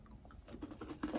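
Someone bites into and chews crunchy British chocolate such as Crunchie Rocks, producing close, quiet crunches and mouth noises in quick irregular succession.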